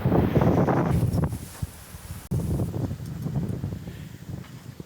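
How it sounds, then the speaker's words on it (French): Strong wind gusts batter a sailboat on a rough sea, with wind around 20 knots and gusts reaching 30. A loud, steady roar of rushing air fills the scene, briefly dropping off before surging back just as strong. "le vent toujours autour des 20 nœuds, ça monte de temps en temps dans certaines rafales jusqu'à 30"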